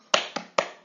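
Three crisp, close claps in a short uneven rhythm, a classroom economics clapping chant by students, with quiet room tone between.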